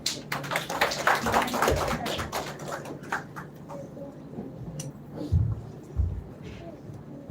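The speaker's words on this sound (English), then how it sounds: "Let's give him a warm cheer" An audience claps warmly at a school solo graduation performance. The applause is dense and steady for about three seconds, then thins to scattered claps and a few louder taps near the end, with room murmur underneath.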